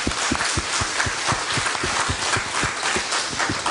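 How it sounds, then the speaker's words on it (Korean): Church congregation applauding a choir and orchestra: a steady, fairly fast clapping rhythm with individual claps standing out over a dense crowd wash, moderately loud and continuous for a few seconds without speech. "Can we get a clap for them?"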